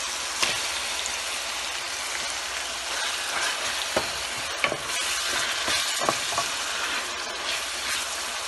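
Tomatoes frying in a pot for dhaba-style handi chicken, a loud steady sizzle with occasional sharp scrapes and clacks of a spoon stirring, near and with no voices.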